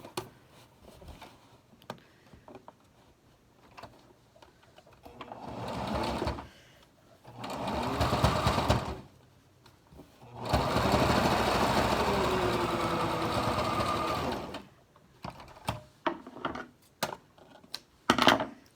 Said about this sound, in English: lay it right sides together over top of your pleats, and I tack it down